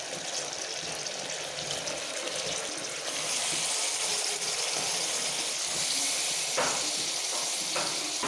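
Mutton pieces dropped into hot oil in a home kitchen, giving a steady, loud sizzle and frying crackle that goes on throughout, with a few sharper spatters near the end and no talk.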